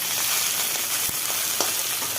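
Pieces of fish frying in hot oil, a close, even sizzle with a few soft clicks of a utensil against the pan.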